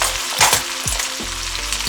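Peppers hit shrimp already frying in a pan, setting off a loud, steady sizzle with a few scraping stirs and pulses as they settle in. No one speaks.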